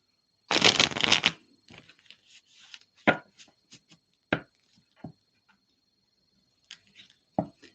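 Oracle cards from an Oracles of Sacred Love deck being shuffled by hand: a dense riffle burst up front, then scattered soft slaps and taps as the cards are squared and cut, close and fairly quiet.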